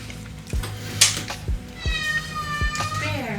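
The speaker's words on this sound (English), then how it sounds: "Can you hear the cat? He wants some too?" A pet cat meows several times, close by, in a kitchen where someone is eating a sinigang sushi roll; the meows are rising, harmonic cries with a few soft thumps and brief talk around them.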